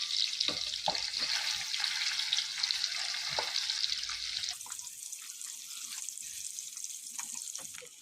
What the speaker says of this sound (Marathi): अंडे आपल्याला फ्राय करून घ्यायचे आहेत